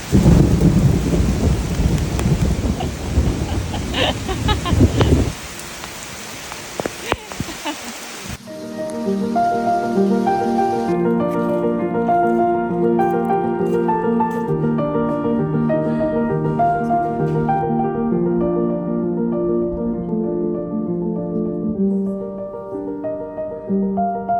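A summer thunderstorm: loud rain pours down with a rumble of thunder for the first several seconds, then the storm sound gives way abruptly to a quieter stretch of steady tones.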